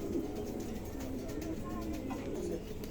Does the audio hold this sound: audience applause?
no